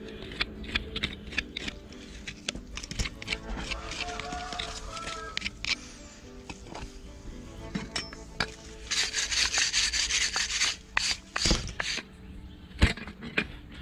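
Hand tools scrape and pick at a horse's hoof ahead of shoeing in a sequence of close, uneven rubbing and clicking strokes, with a dense harsher stretch of scraping near the end.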